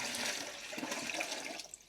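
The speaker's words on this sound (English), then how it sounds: "dump the rest of this water out" Water pours out of an emptied whole-house filter housing in one brief, splashing gush, close by and fairly quiet, tapering off at the end.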